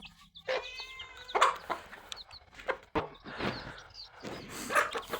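Native hens cluck and chatter close by while eating rice, in short bursts, a busy flock sound with brief pauses between calls.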